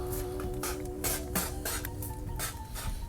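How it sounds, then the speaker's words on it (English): Water from a hose nozzle sprays steadily onto an inflatable pool float, a continuous hiss with bursts of louder spray and faint plastic rattles, close and alone. "you're going to spray water on it"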